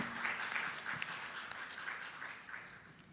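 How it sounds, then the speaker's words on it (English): Audience applause at a food conference, a steady wash of clapping that runs the full length at moderate distance, fairly even with slight swells and no speech over it. "Let's give her a round of applause."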